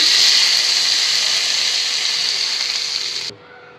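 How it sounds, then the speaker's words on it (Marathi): A loud, hissing sizzle of hot oil tempering poured onto tomato pickle, sustained for a few seconds before cutting off abruptly. "आता ही मस्त चुरचुरीत फोडणी आपण आहे ना लोणच्याला देऊन घेऊया"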